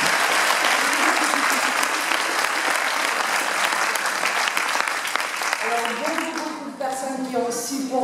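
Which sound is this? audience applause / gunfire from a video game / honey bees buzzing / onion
audience applause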